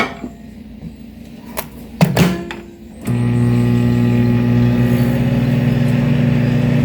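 A microwave oven heats spam for one minute; a few sharp clicks and thumps of the door and buttons come first, then a loud, steady electrical hum with a constant droning tone.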